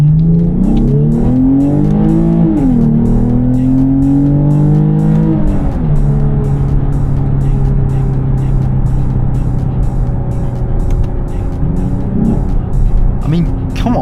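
A 2023 Lexus IS350 F Sport's naturally aspirated V6 revs up loudly through rising gear pulls on a freeway, the engine note climbing, dropping at shifts and then holding a steady drone, with a person talking over it.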